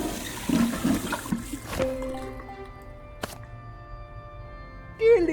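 Water splashes and gurgles as it is scooped from a fountain of sacred water in Simon the Sorcerer Origins, a burst of wet sloshing at the start that gives way to sustained musical tones and a brief chime near the end.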